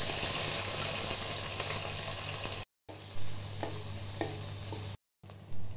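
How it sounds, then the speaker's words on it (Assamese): Chopped onions hit hot mustard oil with cloves, cardamom and cinnamon, giving a loud, steady sizzle broken by two brief silent cuts, with faint stirring scrapes near the end. "কাটি থোৱা পিঁয়াজ তিনিটা দি দিছোঁ"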